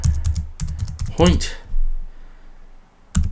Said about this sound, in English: Let's type and let's go for PowerPoint